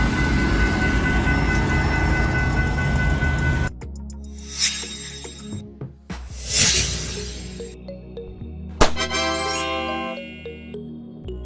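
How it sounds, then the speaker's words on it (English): Railway sounds of a fire attack train carrying firefighting equipment: a steady rolling rumble gives way to a bell-like ding, metallic clanks and chiming tones, moderately loud with no talk. "Fire attack train. A train equipped with firefighting equipment, used to combat fires along railway lines"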